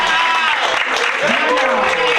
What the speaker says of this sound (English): Give your coaches a round of applause as they come on out